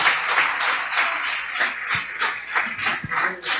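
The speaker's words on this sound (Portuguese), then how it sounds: "Pode aplaudir o Senhor." A church congregation applauds during a Portuguese-language sermon, a steady, moderately loud patter of many hands clapping that pulses gently over a few seconds with no voice on top.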